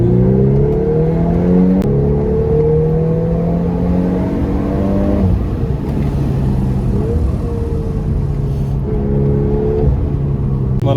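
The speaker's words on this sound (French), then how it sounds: "Cette Golf 8 R fait un 0 à 100 en 4 secondes 7." A Volkswagen Golf 8 R with a seven-speed DSG dual-clutch gearbox accelerates hard, its engine note climbing steadily, dropping sharply at a quick gearshift midway, then rising again, loud and close throughout.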